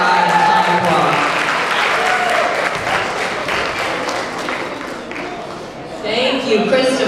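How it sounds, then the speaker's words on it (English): Audience applause at an annual honoring and cultural celebration, steady and loud throughout, mixed with crowd murmur and voices, dipping slightly before swelling again at the end. "Can we give a round of applause for URI and Tomaquag?"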